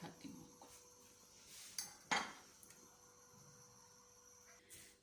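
Dishes clink and clatter faintly as matar pulao rice is served out onto a plate, with a few sharp metallic taps in the middle and lighter knocks before and after in a quiet room.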